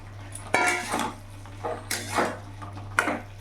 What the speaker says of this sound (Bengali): ভালো করে মিশিয়ে নেব। ভালো করে মশলার সাথে কষিয়ে নেব।